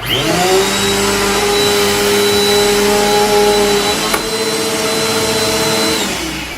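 A Bissell or Eureka Airspeed upright vacuum cleaner runs loud and close with a steady whining motor hum, briefly shifting pitch midway, then winds down as it switches off near the end.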